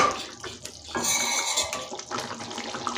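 A spoon scrapes and clinks against a pan while quail gravy is stirred on the stove, a close, busy clatter of metal over wet stirring sounds.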